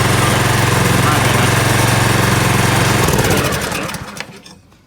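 A 24-inch two-stage snow blower's small petrol engine runs loud and steady close by for about three seconds, then cuts out and winds down to quiet.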